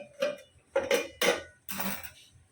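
A lid set down on a pan of cooking vegetables gives a few separate metallic clanks and clatters, close and fairly soft.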